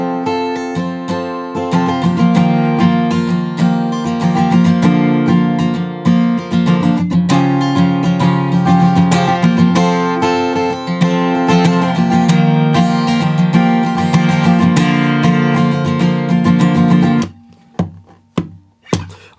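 An acoustic guitar plays the bridge of a song with dense, steady strumming, loud and close, ending in a few separate ringing strums.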